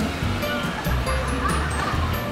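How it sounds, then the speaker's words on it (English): A small waterfall splashes into a water park pool area at Coco Key Orlando, a steady rushing, close and fairly loud, with brief faint background sounds and no clear talk. "It's a little waterfall in there."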